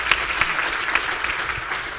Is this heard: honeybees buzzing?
no